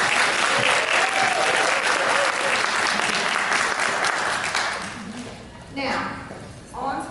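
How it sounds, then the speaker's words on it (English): A crowd at a beauty academy graduation applauds a graduate with loud, dense clapping that fades toward the end as a voice begins speaking. "Let's give our first a round of applause."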